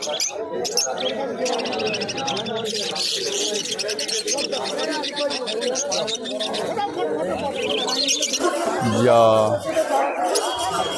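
Busy bird market in Krishnanagar with many fancy pigeons cooing and birds chirping, under constant chatter from people nearby.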